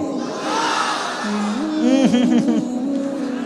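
A large crowd of men at a Bengali sermon gathering shouts the takbir call in unison, a swelling chant that rises to a loud collective cry near the middle before fading into a lingering murmur.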